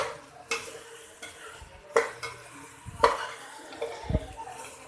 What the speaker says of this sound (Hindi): अब मैं इसको अच्छे से मिक्स करती हूँ